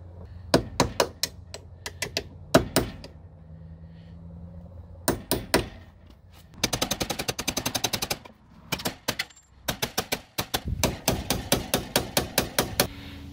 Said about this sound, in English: Oh, that's definitely a pain to hammer in there